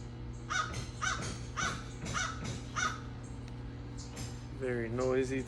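Crows caw outdoors in a steady series of five or six harsh calls spaced about half a second apart, fairly near, followed by a couple of different bird calls over a constant low background hum.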